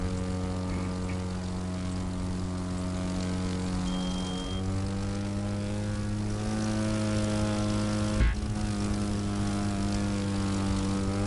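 A propeller plane flying at high speed in the racing game The Crew 2, a steady droning engine hum with strong layered harmonics whose pitch shifts slightly partway through, loud and continuous.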